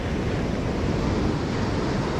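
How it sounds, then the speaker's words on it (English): Ocean waves washing onto a beach, a constant broad rush of surf with some wind noise, close and unbroken for the whole stretch. "Let the waves overtake her."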